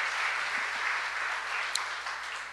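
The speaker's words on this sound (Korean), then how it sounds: "우리 홍 집사님을 위해서도 한번 뜨거운 격려의 박수 부탁드리겠습니다" Sustained applause from a church congregation, steady and even throughout, with no voices over it.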